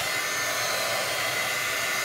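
Hair dryer blowing over a painted card, a steady, loud, close rushing whine of hot air with no break or change.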